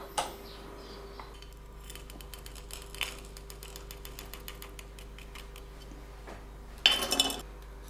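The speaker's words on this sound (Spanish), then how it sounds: "ahora estoy acoplando la tapa a lo que es la caja" A handmade silver filigree lid is fitted onto a silver box: faint, close metallic clicks and delicate taps in a quiet room, ending in a brief louder metallic clatter.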